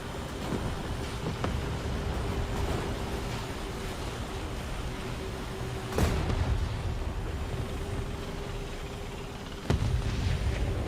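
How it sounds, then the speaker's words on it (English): Artillery strike in War Thunder, heard from inside a Soviet T-80BVM tank: a continuous low engine rumble broken by a few distant booming impacts, two of them noticeably sharper and louder. "Artillery away."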